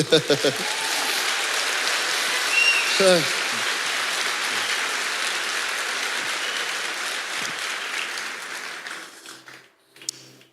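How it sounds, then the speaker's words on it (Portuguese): A church congregation applauds Jesus with a sustained, dense wash of clapping, joined by brief voices and shouts at the start and a few seconds in, before fading out near the end. "Aplaudir Jesus, pode aplaudir direito"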